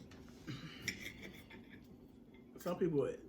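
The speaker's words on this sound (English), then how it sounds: "Don't let them hear that fork hit that plate." A metal fork clinks against a plate a couple of times, soft and close, with a faint voice and kitchen noise around it.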